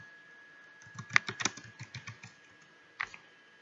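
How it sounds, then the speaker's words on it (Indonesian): Fingers type "Google Form" on a computer keyboard: a quick run of close, crisp key clicks, a short pause, then one final keystroke, with no one talking. "kalian bisa ketik Google Form di Google."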